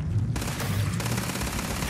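Pistol gunfire in the video game Starfield, a rapid burst of loud, sharp shots followed by a sustained clattering volley, with no talking.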